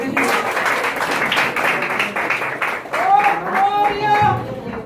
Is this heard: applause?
yes